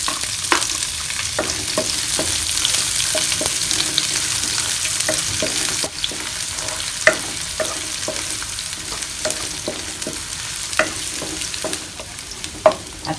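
Garlic, onion and shrimp sauté in a hot pan with a constant loud sizzle, while a utensil stirs and taps against the pan in irregular clicks throughout, close and uninterrupted by speech.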